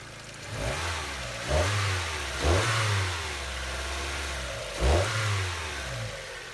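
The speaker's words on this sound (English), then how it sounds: "we're gonna get some sound clips of the stock exhaust and the stock intake" A car engine with stock intake and stock exhaust revs up in several sharp bursts, each rising and then falling back toward idle, with a steady rumble between the blips.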